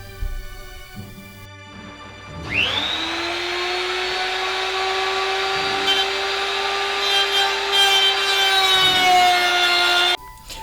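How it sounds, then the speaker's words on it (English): A router fitted with a 1/2 inch bit cuts a channel in a 1x6 pine board clamped to a table. The motor spins up quickly into a loud, steady high whine that lasts about seven seconds before cutting off. "use a router with a 1/2 inch routing bit to route out a channel for the acrylic"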